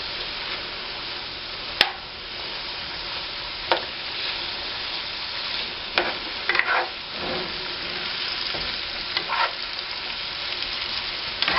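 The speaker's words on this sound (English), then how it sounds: "we're just taking a little bit of canola oil and putting it in with our mushrooms and onions" Mushrooms and onions fry in canola oil with a steady, close sizzle, broken by occasional sharp clinks and scrapes as a utensil stirs the pan; nobody speaks.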